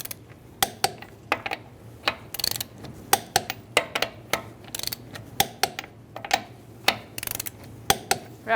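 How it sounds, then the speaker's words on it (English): A ratchet wrench with a 21mm socket torquing the wheel lug nuts on a 2010-2013 Kia Soul gives a steady run of sharp clicks in uneven bursts, close and crisp, with no talk. "we can torque it to 80 foot-pounds with a 21mm socket"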